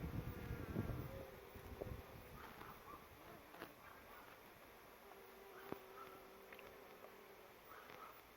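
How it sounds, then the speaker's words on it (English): Faint buzzing of bees around a blackberry hedge drifts outdoors, soft and intermittent, with occasional light rustles and clicks in a quiet setting. "the large number of bees that it's attracting"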